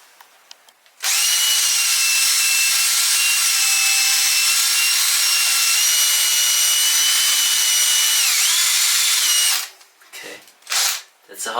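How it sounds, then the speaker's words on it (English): A power drill bores holes into wood to prepare logs for growing mushrooms, one long loud steady whine for about nine seconds, then a few short scraping sounds close by. "So I just start drilling holes and preparing and make it ready."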